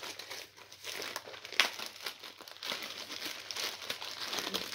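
Crinkling packaging as a well-wrapped parcel is pulled open, a steady close-up rustle and crackle of plastic and paper with brief sharper crunches, faint and continuous without talk.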